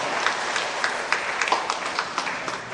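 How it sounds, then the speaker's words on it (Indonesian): An audience claps together at a formal inauguration ceremony for an association's board in Jakarta: sustained, crowded applause with scattered sharper claps standing out, steady throughout. "Tepuk tangan untuk semuanya."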